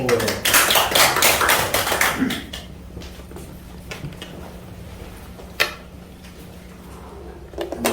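A burst of clapping from a small group fades out after a couple of seconds, leaving a quiet room with a low hum and occasional knocks.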